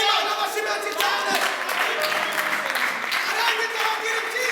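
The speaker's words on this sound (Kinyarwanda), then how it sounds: "amashyi menshi cyane" Loud, sustained applause from a crowd at a church gathering in Mozambique, dense clapping that fills the whole moment without pause.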